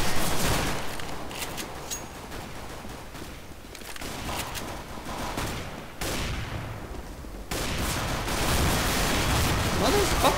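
Dense gunfire from the video game CS:GO, rapid bursts of shots crackling almost continuously at fairly loud level, with a voice speaking over the mix at times.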